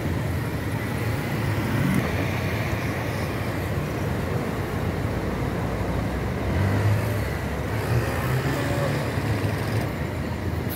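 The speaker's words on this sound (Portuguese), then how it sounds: "Expresso União vai saindo aí." Expresso União bus pulling out of a bus station in Governador Valadares, Brazil, a low steady engine rumble with road and traffic noise holding at an even level throughout, no talking.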